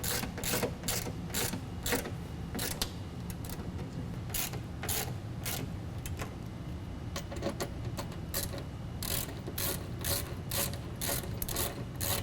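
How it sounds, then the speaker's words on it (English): Steady, repeated ratcheting clicks from a wrench tightening bolts that hold a 6-inch Ionic Voyager Plus running board to its bracket, the clicks coming in quick bursts over a low background hum. "we're going to go ahead and tighten down these bolts, holding the board to the bracket using a 6mm Allen wrench."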